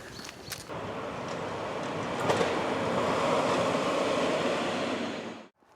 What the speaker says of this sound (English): That was a number 9 tram